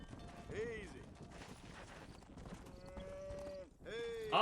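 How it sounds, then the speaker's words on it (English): Cattle in the Red Dead Redemption video game being herded: low moos and lowing calls rise and fall over a bed of hoof and ambient noise, fairly quiet and continuous, with no talk over them. "Steady now, you dumb cows."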